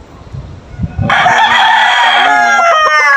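After a few faint low sounds, a young straight-combed gamecock rooster bursts into one long, loud crow right near the listener, holding it to the end.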